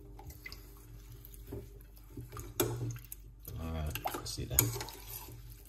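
Fresh ginger being rinsed under a running kitchen tap, with water splashing and dripping in bursts between stretches of quiet, close by, while a person talks briefly over it.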